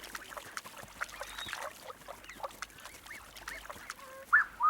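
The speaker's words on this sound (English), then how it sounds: "These blue-winged geese have young goslings" Several blue-winged geese call in short honks against a busy background of other birds and ambient noise in the Ethiopian highlands, with a louder burst of calls near the end.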